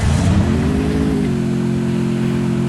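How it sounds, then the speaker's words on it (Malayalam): Motorbike engine in the mobile battle game Free Fire, a loud close droning rev that holds a steady pitch, climbs briefly, then settles into a constant idle hum with no talk over it. "ബൈക്ക് ഇരിപ്പുണ്ട് ഇവിടെ, ബൈക്ക് എടുക്കാം."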